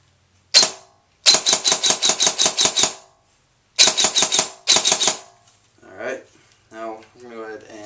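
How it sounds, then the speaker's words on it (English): A G&D DTW airsoft electric rifle running on a LiPo battery fires close by: one long rapid string of sharp shots, then two shorter bursts, followed by someone talking. "So let's go ahead and do a little bit of a firing demo real quick."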